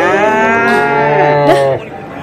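A cow gives one long, loud, close moo lasting nearly two seconds, with a rising, bending tone at the end before it cuts off into quiet.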